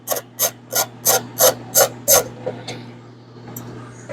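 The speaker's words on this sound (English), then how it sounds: "We take the three motor bolts loose." Bolts on the window regulator motor of a 2005 Honda Pilot being worked loose with a hand tool, seven sharp, evenly spaced ratcheting rasps up close, then a quieter scrape and a few faint clicks over a low steady hum.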